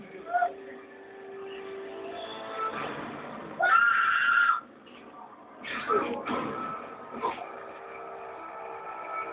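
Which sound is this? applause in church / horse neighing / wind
horse neighing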